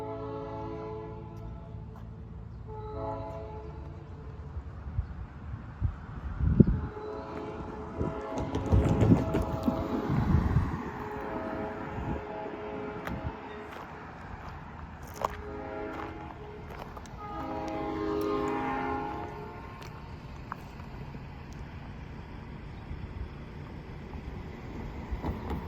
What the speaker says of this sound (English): That train is now departing the station.